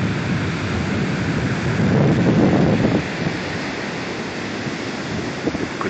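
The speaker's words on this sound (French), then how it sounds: "Beaucoup de vagues." Ocean waves washing onto a beach under steady wind buffeting the microphone, a continuous broadband roar that swells briefly with a louder wave before settling back, with no talking.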